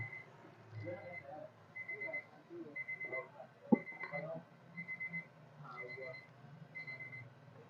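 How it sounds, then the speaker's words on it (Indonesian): A kitchen timer at a noodle stall's boiling pot beeps in a steady repeating pattern of short high tones. It is faint under people talking and general background noise. "Jadi dia ngeping sih kalau ini udah 1 menit setengah gitu."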